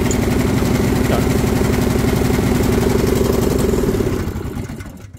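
A snowblower engine idles steadily right after startup with the choke partly pulled, a loud close putter with a fast regular chug, fading out as it slows near the end.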